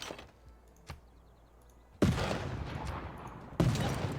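Field cannon fire in Civilization 6, with two loud booming blasts, each opening with a sharp crack and leaving a long rumbling, crackling tail, preceded by faint thuds and clicks.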